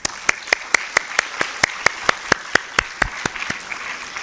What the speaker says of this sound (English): join me for a very well-deserved round of applause for our distinguished speakers